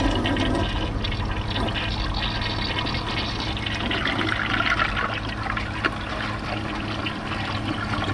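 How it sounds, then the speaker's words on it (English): A Kohler Wellworth WaterGuard toilet flushes 22 bottle caps, a loud, close, continuous rush of swirling water that gradually eases into refill trickling, with no voices. "For the last test, let's see if it can take 22 bottle caps"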